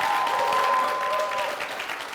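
Studio audience on a French-language TV comedy show claps for the arriving comedians, a moderate continuous patter of applause with a sustained tone running under it for the first part and a slight fade at the end.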